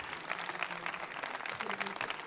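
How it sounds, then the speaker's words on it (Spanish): Applause from an audience after a talk at a tech conference, a fairly faint, even patter of clapping from a crowd heard at some distance, with a low murmur of voices beneath. "Vamos a darle un aplauso a Andrés y agradecerle que nos haya dedicado"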